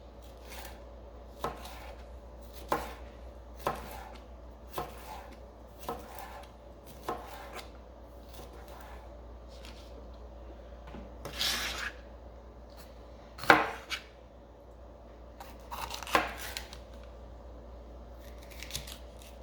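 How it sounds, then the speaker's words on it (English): Baby onions are sliced lengthwise with a knife on a board, giving sparse, sharp cutting taps at irregular intervals, then a few louder scraping chops near the end, with a quiet room hum underneath. "I just cut up the onion and I'm cutting them long ways"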